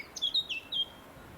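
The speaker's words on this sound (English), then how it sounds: "Black cap there somewhere." A blackcap sings a short phrase of bright, high warbling notes in the fens by the River Ouse, Cambridgeshire, faint and somewhat distant over quiet background noise.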